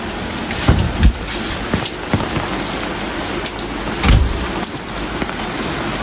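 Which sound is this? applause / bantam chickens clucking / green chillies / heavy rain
heavy rain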